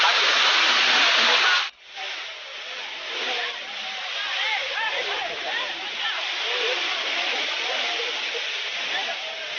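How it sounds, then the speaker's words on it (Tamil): Kiliyur Waterfalls in the Yercaud hills: a steady broadband rush of falling water, loud and continuous, with a brief dropout near the start and faint speech-like sounds mixed into the roar. "அருவியை பாருங்க."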